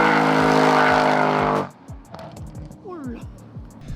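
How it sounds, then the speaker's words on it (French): A 700 hp Audi RS6 revs hard and loud while drifting around a bend, then the engine note drops away and sharper bursts follow. A voice talks in the background. "c'est là que j'ai fait le beau drift qu'on vous remet tout de suite"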